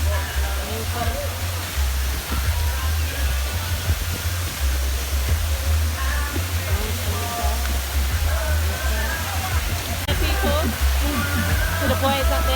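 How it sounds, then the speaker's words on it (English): Little Dunns River waterfall in Jamaica pours in a steady, broad rushing hiss with a low rumble underneath, while voices chatter faintly nearby. "go to the waterfall there"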